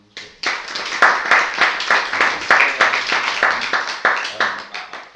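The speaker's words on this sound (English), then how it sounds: "Can we give Graham a round of applause?" A small live group applauds Graham after a coaching session. The clapping is close, loud and fairly rhythmic, and it starts abruptly and carries on steadily to the end.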